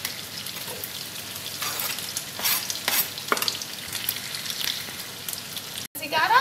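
Onion and garlic frying in a pan for cabbage sambusa filling, a dense hissing sizzle with repeated stirring scrapes, close and fairly loud, briefly cut off near the end and then resuming without talk.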